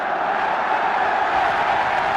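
A large stadium crowd roars and cheers for Arsenal's Frank McClintock as he goes up to collect the FA Cup after the match against Liverpool, a dense, steady wall of noise that never lets up.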